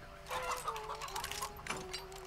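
Chickens cluck in Shadow Tactics: Blades of the Shogun, a stealth game set in a camp, with several soft, overlapping clucks and warbles at close range over quiet ambience.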